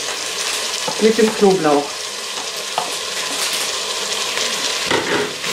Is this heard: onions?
yes